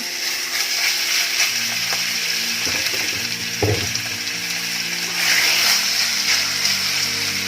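Steady sizzling and frying as chicken is stir-fried in a hot pan, with scraping and stirring clatter throughout and a louder burst near the end; no talking.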